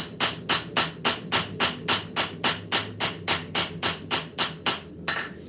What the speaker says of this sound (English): Trying to take all those little hammer strikes out, leave ourselves a nice flat tang.